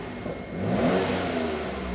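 A 1991 Mitsubishi 3000GT VR4 exhaust gives a short, close rev, its engine note swelling and then easing off, with no talking.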